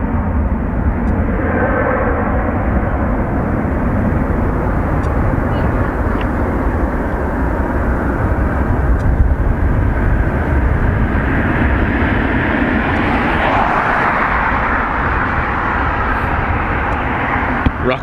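A fixed-wing airliner departing Dublin Airport produces a loud, steady broadband jet roar that persists for the full stretch, swelling slightly toward the end as the aircraft passes.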